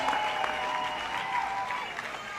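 Sustained applause from a big crowd at a presidential campaign rally, many hands clapping in a thick, even wash mixed with scattered shouts and cheers.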